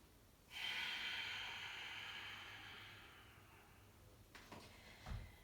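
A single long, hissing breath through the nose during a power flow yoga session, steady and close for several seconds before tapering off, followed by a couple of short sniffs.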